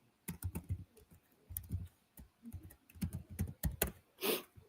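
A password is typed on a computer keyboard in quick clusters of close, crisp key clicks with brief pauses, ending in a softer rustle.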